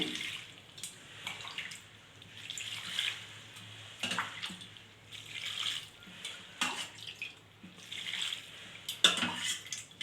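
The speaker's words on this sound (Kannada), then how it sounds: "ನೀರು ಹಾಕ್ಕೊಳ್ತಾ ಇದ್ದೀನಿ." Water splashes into a pressure cooker holding garlic, green chilli, tomato and turmeric for palak sambar, in several separate pouring bursts with short pauses between them, close and fairly quiet.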